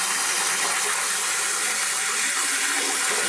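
Lots of water gushes out during a basement renovation, a loud, steady, broadband rushing that stays constant and close with no break or voices.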